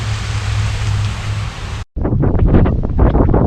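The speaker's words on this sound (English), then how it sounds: "And it's kind of windy" Steady wind roars across the microphone, a loud broadband rush that cuts out briefly before gusting again.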